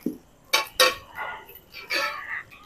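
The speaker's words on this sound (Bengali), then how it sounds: "এবার চুলোতে কড়াইটা বসিয়ে দিচ্ছি।" A wok set down onto a kitchen stove while mango pickle cooks, giving two sharp metallic clanks in quick succession followed by softer scraping and rattling of cookware, with a short low voice sound at the start.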